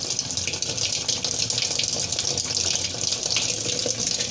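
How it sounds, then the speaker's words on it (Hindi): Water runs steadily from a tap into a semi-automatic washing machine, a continuous splashing rush that stays even and close for the whole stretch. "अब हम टोटी को ऑन करेंगे, उसके बाद इसमें थोड़ा सा पानी भर लेंगे।"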